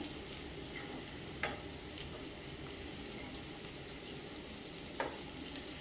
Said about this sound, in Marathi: हे बघा चांगली भाजत आहे आपली अळूवडी।